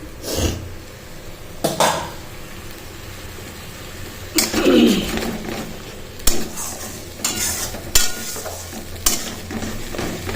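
Vegetable stems fry in a pan while being stirred, with a low sizzle running underneath and intermittent louder bursts of spoon scraping and clanking against the metal.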